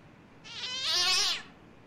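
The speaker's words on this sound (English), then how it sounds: "There's a kitty cat in here." A single drawn-out cat meow in the horror escape game Evil Ritual, rising and falling for about a second, fairly close and clear over a quiet low ambient hum.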